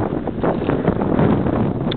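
Continuous rushing wind buffeting close to the microphone, a steady low roar with gusty rustling throughout.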